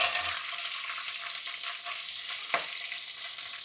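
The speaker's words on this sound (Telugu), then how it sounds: "ఇవి కొంచెం వేగిన తర్వాత కరివేపాకు వేద్దాం." Dry red chillies, chana dal, green chillies, ginger and onion fry in hot oil with a dense, bright, steady sizzle, close and loud, and a single brief stirring scrape partway through.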